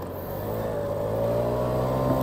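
A motorcycle engine running steadily while being ridden, a continuous close drone that builds slightly in loudness and pitch, with no talking.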